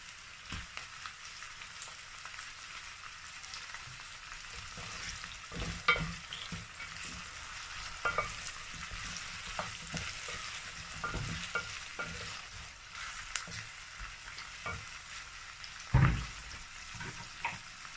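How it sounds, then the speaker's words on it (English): Efo riro stew with soaked stockfish and catfish sizzling and frying in a pot as it is stirred, giving a steady soft crackle broken by scraping stir sounds and one louder clunk near the end. "So I'm also going to add the stockfish and the catfish I soak inside salt water."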